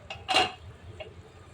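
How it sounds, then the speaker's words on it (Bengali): A metal lid is lifted off a cooking pot of chicken khichuri. A light metallic clink comes first, then a brighter scrape-and-ring as the lid comes free, followed by a faint tap, all close and quiet. "ঢাকনাটা তুলে নিব।"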